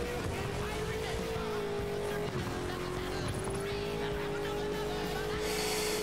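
Car in the racing game Burnout Paradise drifting, its engine droning steadily with a rising tire squeal and skid noise near the end, loud and continuous with game music underneath.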